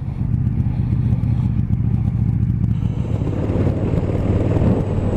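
A 2018 KTM 1290 Super Duke R, a roughly 180-horsepower motorcycle, rumbling steadily while being ridden, a deep engine drone with some rattling clatter and wind noise, with no speech over it.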